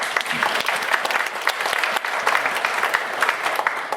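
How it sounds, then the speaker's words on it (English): Applause from a crowd at an election debate, brisk, dense clapping across the whole stretch with a few sharper individual claps standing out. "Give him a round of applause."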